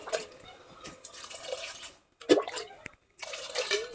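Water poured into a cooking pot of rice for a biryani-style dish, heard as splashing, gurgling pours in bursts separated by short silent gaps.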